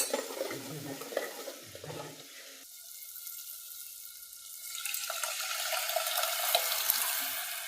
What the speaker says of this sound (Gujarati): તેઓ કેવો વઘાર કર્યો છે જોઈ લો મિત્રો